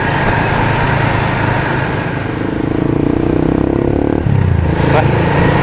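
A motorcycle with a stock exhaust idles steadily up close and loud, then its note shifts slightly as it revs, with someone talking over it.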